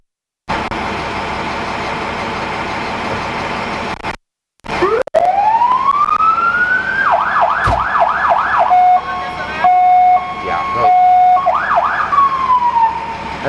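Fire truck siren switched on after a brief pause, with a loud rising wail that settles into rapid yelping warbles and steady tones, close by and alone.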